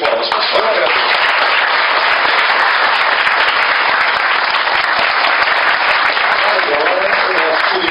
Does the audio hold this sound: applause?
yes